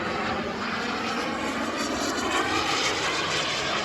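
RC model aircraft, including 120-inch 260 aerobatic planes and model jets, fly in an outdoor air show demo, giving a continuous loud engine and jet roar that swells and fades slightly with no talking.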